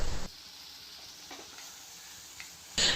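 Soft sizzling of ginger chutney frying in a pan as coconut is added, a quiet steady hiss framed by louder bursts at the start and end, with no talking.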